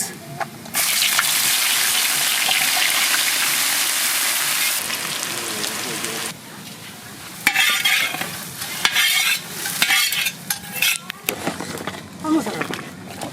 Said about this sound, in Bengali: সর্ষের তেল, পেঁয়াজের বেরেস্তাটা করে নেব।